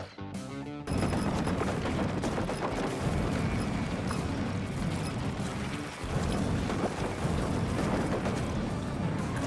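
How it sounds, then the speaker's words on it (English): Sustained machine gun fire in the mech game Mercenary Battle Company pours out as a dense, loud, continuous rattle of rapid shots with booming impacts, nearly unbroken for several seconds after a brief opening. "Let's do the machine gun one."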